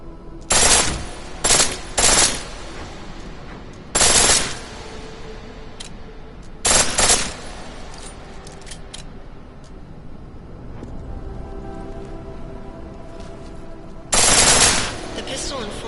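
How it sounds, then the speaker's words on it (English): Bursts of full-auto pistol fire in a video game, five or six loud, sharp strings of rapid shots separated by quiet gaps, alone over faint background hum. "The pistol in full auto will take down targets fast, but it'll burn through your ammo."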